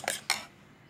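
Eggs with preserved radish are beaten in a bowl: two quick, close clinks of a utensil against the bowl, then quiet.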